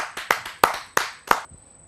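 An audience at a Hindi poetry gathering claps to welcome a speaker from the meteorological department to the stage. About five separate, sharp, fairly close claps fall in a loose rhythm, each decaying quickly before silence.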